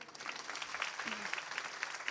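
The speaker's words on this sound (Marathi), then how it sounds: "टाळ्या वाजवा ना जोरदार" A crowd claps continuously in dense, even applause at a devotional kirtan, heard from a distance and fairly soft.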